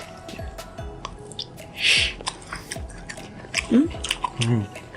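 Close, wet chewing of crunchy broccoli with soft crunches and squishy bites, repeated irregularly, with a brief murmur or hum between mouthfuls.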